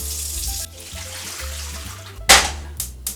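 Tap water runs at a kitchen sink while making Ecuadorian ceviche, a broad hissing stream with a few sharper splashes and bursts near the end, close and fairly loud over faint low background tones.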